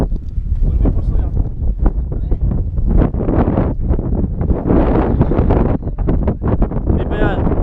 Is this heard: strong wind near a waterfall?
yes